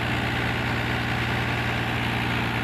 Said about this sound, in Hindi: देखिए कितना अच्छा चल रहा है ट्रैक्टर।